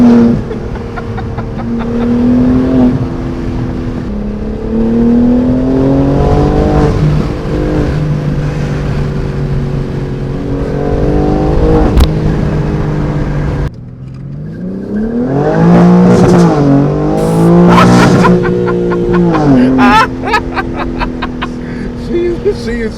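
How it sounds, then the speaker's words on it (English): BMW G80 M3 with a PSI midpipe, exhaust revving up and down in repeated swells, loud and close, with a brief drop before harder revs return and faint voices at times. "So David, you got the PSI Midpipe on the car, right? Yeah. So it sounds good"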